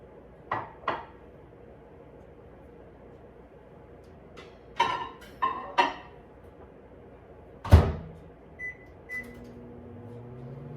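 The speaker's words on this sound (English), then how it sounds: "I like doing the microwave just because it's a little quicker." A kitchen microwave oven heating chocolate: the door clunks and other handling knocks come in several sharp bursts, followed by short electronic beeps near the end, all close up with no talking.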